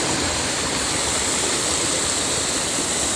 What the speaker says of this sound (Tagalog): Merong waterfalls mga idol